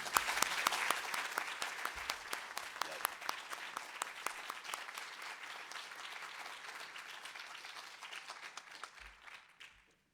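An audience at a panel discussion on religious freedom gives sustained applause, dense clapping that fills the room for about ten seconds before tapering off.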